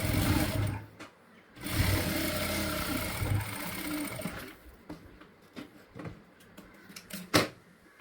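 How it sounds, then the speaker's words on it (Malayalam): A sewing machine stitches a straight lace piece for the front of a nightie, its fast rhythmic motor chatter running steadily for several seconds, then stopping and giving way to faint handling clicks and a sharp knock. "ഡിസൈൻ ചെയ്യാൻ വേണ്ടി ആദ്യം ഒരു സ്ട്രെയിറ്റ് പീസ് അടിച്ചെടുക്കാം."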